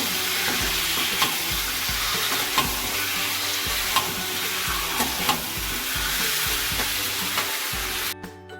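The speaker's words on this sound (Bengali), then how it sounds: "মাংসের সাথে কষাবো।" Meat sautéing with spices in a pan, a continuous loud sizzle broken by repeated scraping and stirring strokes of a utensil, ending in a brief pause.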